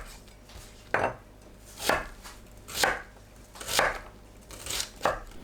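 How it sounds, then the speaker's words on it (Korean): An onion is chopped into 1 cm pieces with a knife on a board, five or six crisp, evenly spaced cuts about a second apart, close and clear. "양파를 1cm 정도 크기로 썰어줍니다."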